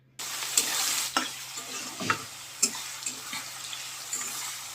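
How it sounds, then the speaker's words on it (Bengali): Onions frying in a pan for a spicy chicken curry, a steady close sizzle with stirring scrapes and clinks breaking through it at intervals, no voices. "পেঁয়াজটাকে ভালো করে লাল লাল করে একটু ভেজে নেব"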